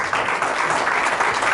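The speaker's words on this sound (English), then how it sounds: "a round of applause for our elders." A crowd at a branch investiture ceremony gives a round of applause for the elders, a brief, full burst of many hands clapping at a steady level.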